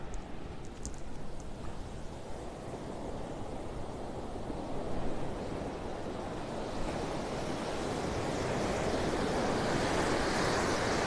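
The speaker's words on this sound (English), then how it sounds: "So the tide's gonna go out for about another 4 hours." Ocean waves rolling onto the shore as the tide goes out, a continuous loud roar of surf mixed with wind noise on the microphone, building slightly louder toward the end.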